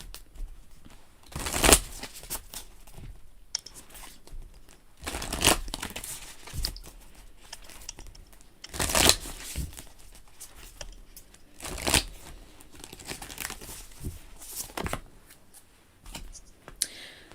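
Work Your Light oracle cards being shuffled in repeated crisp riffling bursts every few seconds, close and fairly quiet, with soft sounds of handling between them.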